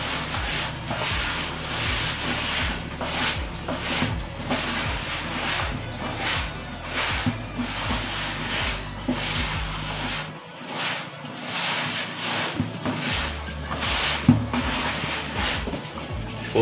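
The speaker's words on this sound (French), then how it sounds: "Il faut bien mélanger." Steady rubbing and scraping of a spoon or stick stirring a thick homemade OMO-style laundry detergent mixture in a container, a continuous repetitive swishing rhythm heard close up for the whole stretch, without speech.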